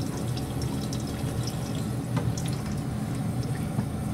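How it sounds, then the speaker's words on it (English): Wastewater running out of the black tubing of a Bulk Reef Supply 6-stage 150 GPD RO/DI system, a continuous close trickle and splash of flowing water with light drips. "In the black tubing, water is already coming out right now."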